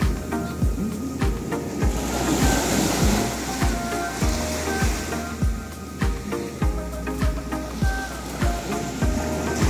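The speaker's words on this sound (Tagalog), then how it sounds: "tumataas ang tubig, yung buhangin kinakabig niya pagitna" Waves wash up a sandy shore and pull the sand back, and the surf sounds close and loud. Low thuds of water come at a steady pace, roughly every half second to second, over a constant rushing hiss.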